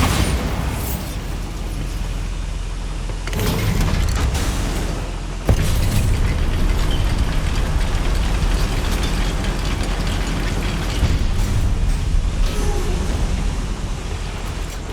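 A Bombarda spell explosion inside a goblin mine in the video game Hogwarts Legacy: a sharp burst followed by a long, loud rumbling roar that stays heavy and dense to the end.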